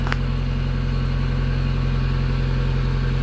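A Honda Civic engine idles fast while warm, with a throttle-body relearn underway and the car also losing coolant. It makes a steady, continuous mid-pitched hum that stays close and even throughout, with no revving.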